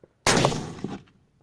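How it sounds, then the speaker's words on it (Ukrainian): A civilian cartridge fired at a Chinese steel plate: a single sharp, loud report up close with a short metallic ring dying away. "відпрацьовуємо цивільним набоєм по плитці"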